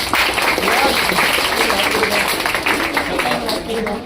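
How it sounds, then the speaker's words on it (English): An audience at a Teacher's Day celebration at an English-learning institute in Delhi claps in sustained, dense applause, loud and close, with voices mixed in among the clapping. "Clap harder."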